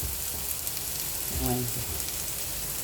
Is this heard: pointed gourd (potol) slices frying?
yes